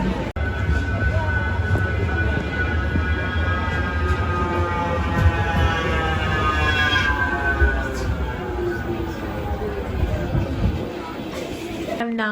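A Manchester tram pulling away, its electric motor whine rising in pitch as it accelerates over a steady low rumble, with faint crowd murmur in the background.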